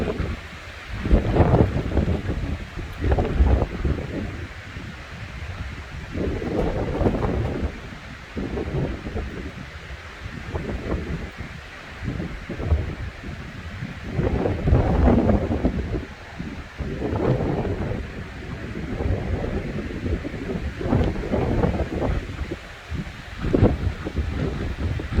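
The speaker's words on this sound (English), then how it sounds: "I love the wind." Strong gusty wind on a hot, very windy beach day, roaring and buffeting the microphone in loud surges that rise and fall, with no one speaking.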